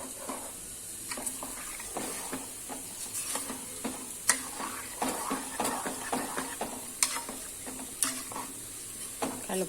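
Soaked rice stirred in a hot sizzling pan at home, with steady scraping strokes and soft clinks of the utensil against the pan over a continuous sizzle, close and fairly quiet, no talking.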